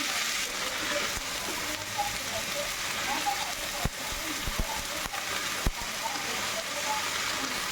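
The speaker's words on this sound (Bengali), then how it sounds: "কপিটাকে একটু ভেজে নেবো" Cauliflower pieces fry in hot oil in a wok, giving a steady, loud sizzle that runs throughout, broken by a few sharp clicks and taps.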